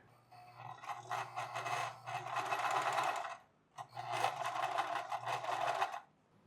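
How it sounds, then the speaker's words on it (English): A sewing machine runs a double stitch along a cap seam in two steady bursts, with a short pause between them, at moderate loudness and close by. "And then I'm going to run a double stitch on either side again"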